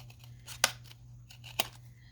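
Scissors trim a strip of folded craft paper for a hidden paperclip project, with two sharp close snips about a second apart over a quiet background.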